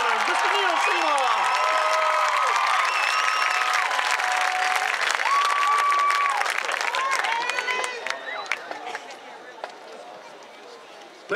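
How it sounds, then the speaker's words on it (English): Sustained applause and cheering from a crowd at a high school marching band event, loud at first and fading after several seconds, with a voice talking over it and whistles cutting through. "What a round of applause, ladies and gentlemen."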